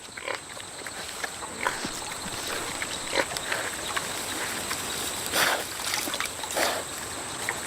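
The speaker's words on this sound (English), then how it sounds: "Resembling wild pigs in behavior and appearance, peccaries never stray too far from water." A herd of peccaries, wild pig-like animals of the Colombian Amazon, snuffles and grunts near water, giving scattered low grunts and rustles over a steady background of forest insects and trickling water.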